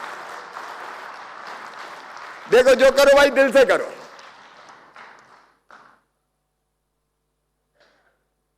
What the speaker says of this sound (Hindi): अरे ताली बजाओ तो जरा ढंग से बजाओ,